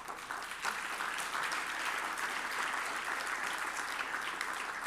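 Steady audience applause at a benefit dinner in Miami, honoring a donor; many hands clapping continuously and evenly throughout, dense and sustained with no voices standing out.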